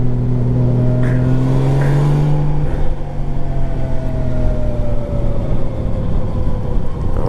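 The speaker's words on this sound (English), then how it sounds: "These things, they sound like rocket ships. Just that flat six is just a beast of a motor." A 1998 Honda Valkyrie motorcycle's flat-six engine revs loudly and close, its steady droning roar rising and falling in pitch with throttle changes throughout.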